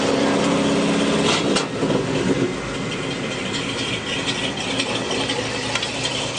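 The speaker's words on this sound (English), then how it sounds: "You can see the motor mount's not shaking around, just idles nice and smooth. I'll go ahead and idle it down." A small engine idles smoothly at close range, loud and steady, then its pitch drops as it is idled down and settles into an even, lower idle.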